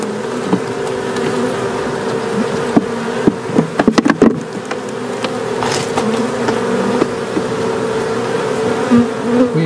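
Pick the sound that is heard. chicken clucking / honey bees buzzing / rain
honey bees buzzing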